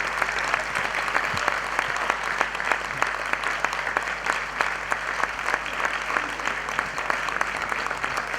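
An audience claps steadily for a performer at a tribute concert, a dense sustained round of applause heard close, with no speech over it.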